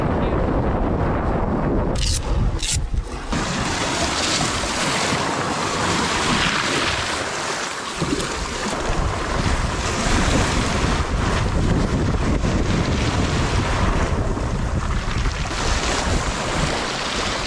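Ocean waves washing onto a secluded beach, a steady loud roar of surf with heavy wind buffeting the microphone throughout, close and continuous, with no voices.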